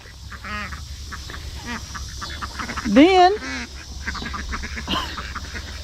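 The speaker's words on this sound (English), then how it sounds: "So I got some ducks coming up here." Farm ducks quack in a few separate, honking calls, the loudest and closest near the middle, over a steady low background hum with a brief voice nearby.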